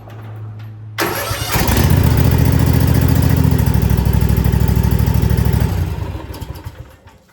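A Husqvarna Z254F zero-turn mower engine cranks briefly, then catches and runs with a loud, steady throbbing drone close by for about five seconds before winding down at the end.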